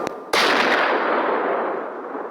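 A faint pop followed by a single loud, sharp sniper rifle shot in a video game that rings out and slowly decays into a long echoing tail.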